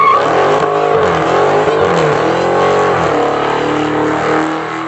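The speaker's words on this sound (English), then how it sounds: "That would be the sound of a supercharged V8 Dodge Challenger Hellcat" A supercharged V8 Dodge Challenger Hellcat engine revs loud and close, with rising and falling pitch sweeps over a deep rumble for about five seconds.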